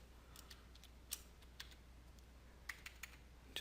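Keys tapped on a computer keyboard while entering a new password during a Windows Server 2012 R2 installation, a sparse run of faint, irregular clicks in a quiet room.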